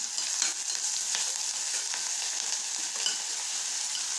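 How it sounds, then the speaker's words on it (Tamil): Ginger garlic paste with ground cardamom, cloves and cinnamon fries in a pan, giving a steady close sizzling hiss with light stirring scrapes throughout and no voices. "இப்போ நம்ம எடுத்து வச்ச இஞ்சி பூண்டு பேஸ்ட்டும் இந்த பொடிச்சு வச்ச ஏலம் கிராம்பு பட்டை எல்லாத்தையும் நம்ம போடணும்."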